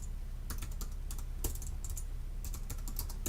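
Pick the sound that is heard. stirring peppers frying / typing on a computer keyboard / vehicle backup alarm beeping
typing on a computer keyboard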